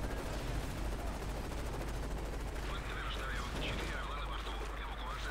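Machine-gun fire in the video game Call of Duty Modern Warfare 3 rattles in dense, continuous bursts at moderate level, with a person talking over the later part.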